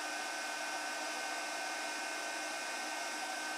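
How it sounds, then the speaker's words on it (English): Heat gun running while warming up to dip a crappie jig into white paint, giving a steady, close airy roar with an even hiss and no changes in level for a few seconds. "Now, turn your heat gun on, and then you're going to dip it, heat it up so it gets hot"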